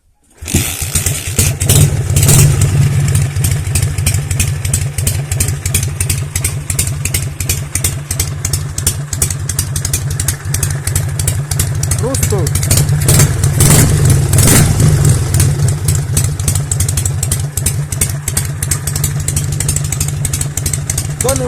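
A motorcycle engine fitted with K68 carburetors starts and runs, a loud, close, rapid uneven putter with clattering that holds steady throughout and rises briefly in revs midway.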